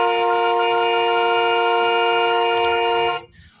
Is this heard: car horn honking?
yes